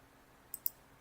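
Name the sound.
computer mouse clicking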